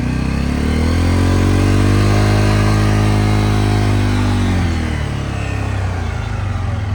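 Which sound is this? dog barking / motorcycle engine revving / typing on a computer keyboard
motorcycle engine revving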